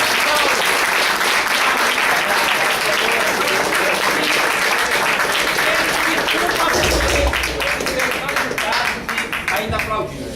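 Loud, dense applause from the audience fills the hall at a 2010 PSOL presidential pre-candidate debate, sustained for about ten seconds before thinning slightly, while a voice is heard faintly beneath it near the end.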